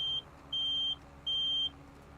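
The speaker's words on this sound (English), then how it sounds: "I just got a triple beep. Must be getting low on fuel. Low fuel warning." Three evenly spaced electronic beeps sound as a low fuel warning in Farming Simulator 25, clear and steady over a faint low engine hum.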